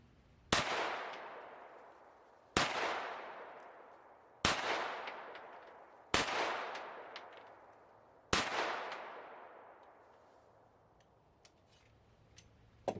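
Five loud gunshots fire lead-free bullets at a target outdoors, each sharp crack followed by a long echoing decay, spaced roughly two seconds apart with quiet in between.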